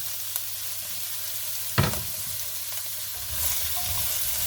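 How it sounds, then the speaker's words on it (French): Carrots and vegetable garnish sweating in a frying pan for a slow-cooked lamb leg, a soft low sizzle with a sharp stir or clatter partway through and a faint scraping, quiet and close with no talk. "Et on vient tranquillement faire suer notre garniture"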